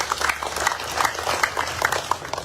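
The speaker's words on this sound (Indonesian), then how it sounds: "Tepuk tangan bagi." Audience applause at a government social aid handover ceremony, a steady wash of clapping hands heard at moderate distance and fairly even throughout.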